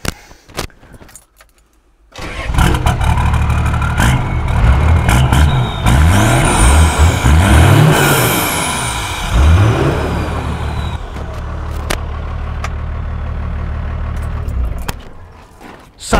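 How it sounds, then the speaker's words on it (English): Toyota Land Cruiser HJ61 with a 12HT diesel engine and a whistle exhaust pipe, idling and revving close by, with a rising whistle tone over the rumbling engine through most of the clip. "it'd be rude not to show off the sound of this awesome whistle and soot exhaust pipe"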